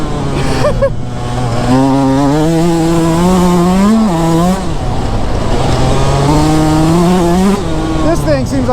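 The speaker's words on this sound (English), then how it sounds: "I'm riding on like concrete, so it's easy to rev this thing up fast." Yamaha YZ125 two-stroke dirt bike revving hard on concrete, a loud close buzzing engine whose pitch climbs and dips through repeated throttle blips, continuous throughout with a brief drop midway.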